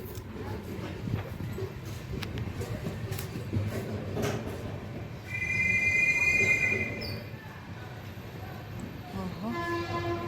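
An Amrit Bharat train pulls into a station with a steady low rumble and clatter, a bright horn-like tone sounding midway, and people talking nearby.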